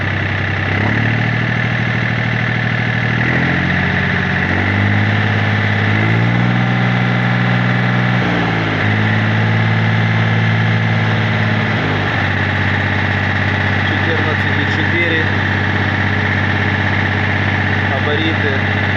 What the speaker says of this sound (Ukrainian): Запускаємо трактор. Трактор запустився, на холостих нема зарядки. Даємо газу.